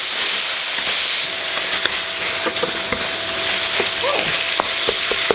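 Sliced onion frying in a chicken cashew stir fry with Thai chilli jam, a loud continuous sizzle with scattered clicks and stirring taps of a utensil, a brief word spoken partway through.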